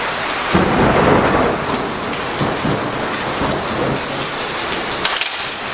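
A loud thunderstorm with heavy rain, a rolling rumble of thunder over a dense, continuous downpour close by.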